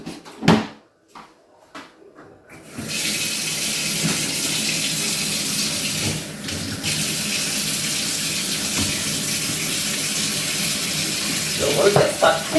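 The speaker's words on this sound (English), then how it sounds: "So I will just run some warm water." Warm water runs steadily from a kitchen tap into a sink, with a few knocks and clatters at the start before the continuous hiss of flowing water settles in for the rest of the clip.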